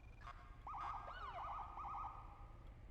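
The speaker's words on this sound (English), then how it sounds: "Yeah, that siren makes sense." A wailing emergency vehicle siren in the GTA V NoPixel roleplay game sweeps up and down in quick repeated cycles, fairly loud and steady over low background engine rumble, with no talking.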